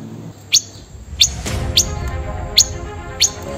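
A songbird repeats five sharp, bright chirps at roughly even intervals over a quiet background hum.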